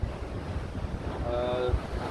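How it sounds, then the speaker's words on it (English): Wind gusting across a fishing pier, a steady rushing buffet on the microphone with low rumbling pulses throughout and a faint tonal whistle near the end. "The wind is not so heavy here."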